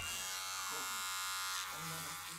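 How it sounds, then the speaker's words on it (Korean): An electric shaver buzzes steadily in another room, a continuous, even drone heard throughout. "방 쪽에서 면도기 소리가 들리자 발딱 일어섭니다"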